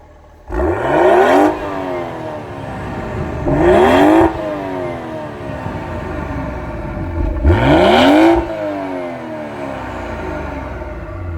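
Engine and exhaust of a 2018 BMW X3 M40i in black sapphire metallic. Three loud, close revs each climb sharply and fall away, with a steady idle between them and no voices.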